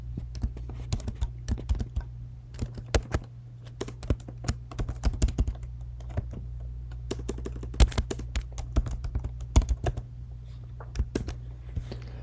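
Keys clatter on a computer keyboard while ggplot code is written, a steady run of light, close clicks with uneven rhythm over a low constant hum, no talking.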